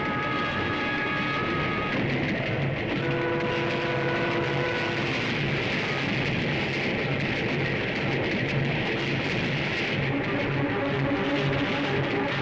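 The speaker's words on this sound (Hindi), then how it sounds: "ये ट्रेन रुकी क्यों नहीं?" A train rushes past without stopping in a Hindi action-film scene, a loud continuous rumble and roar with sustained tonal hum and horn-like tones throughout, no talk.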